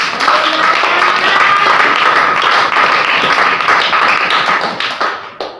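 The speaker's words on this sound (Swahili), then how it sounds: "Pigia Yesu Kristo makofi." A church congregation claps hands together in sustained, loud, rapid applause that fills the room, the dense clapping continuing steadily before tapering off at the end.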